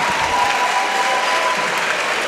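Steady, dense applause from a crowd at a state school swimming championship, welcoming Commonwealth Games gold medallist swimmer Tim Diskin; loud, even clapping that fills the whole moment without a break.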